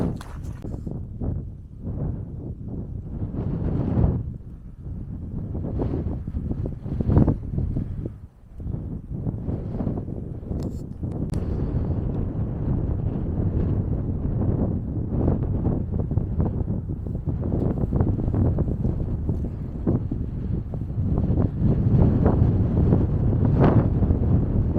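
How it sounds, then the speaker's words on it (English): Breezy wind on a high hillside at a wild camping spot, gusting and buffeting loudly against the microphone throughout with rumbling, uneven surges. "quite breezy up here"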